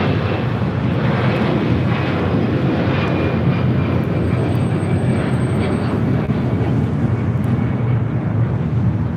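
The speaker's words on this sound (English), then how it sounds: "This is the Avianca Loxa Retrojet taking off to San Salvador, Flight 523." An Avianca airliner in a retro-jet livery thunders down the runway on takeoff at LAX, a loud, steady, rumbling engine roar that stays constant throughout with a faint high whine above it.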